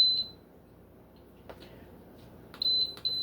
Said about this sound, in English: Oh, this beeping is so loud.